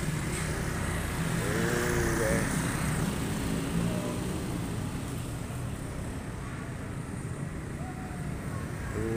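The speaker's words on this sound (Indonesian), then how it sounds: "Motor kenceng-kenceng bener guys." Motorcycles and other vehicles rumble steadily at the Muaradua bus terminal during the 2023 Lebaran homecoming rush, a continuous wash of engine noise and wind with no single clear pass standing out.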